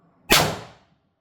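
Single sharp crack from a Pistelle power-modded air pistol with a 6-inch barrel, a loud close report with a brief decaying tail, no voices.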